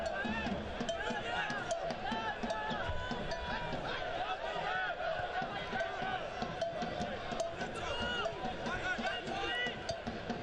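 A big crowd at a Richmond Kickers soccer match against Union Omaha, a steady murmur of spectators with scattered voices and a commentator talking over the top throughout.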